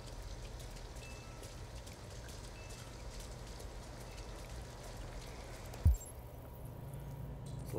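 Steady rain in the video game Detroit: Become Human patters and hisses continuously, with a soft thump near the end.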